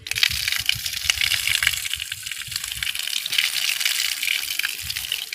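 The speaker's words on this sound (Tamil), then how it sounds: "தண்ணி கொஞ்சம் திறந்து விட்டுடலாம், கால் சுடும் போது கால் கொஞ்சம் நினச்சிக்கலாம்" Water gushes steadily from an opened tap onto a sun-heated stone temple floor, a loud, continuous broadband splash and hiss with no one talking.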